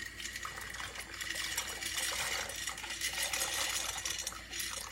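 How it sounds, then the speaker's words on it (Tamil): Penne pasta dropped into a pot of boiling water, a continuous bubbling, hissing boil that swells slightly as the pasta goes in, fairly quiet and close, no talking. "என்னோட பென்னே பாஸ்தாவை நான் மிக்ஸ் பண்ணுறேன்"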